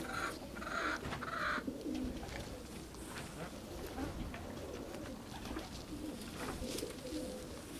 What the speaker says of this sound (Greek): Αυτά εδώ είναι τα πουλιά, κύριε του Τάσου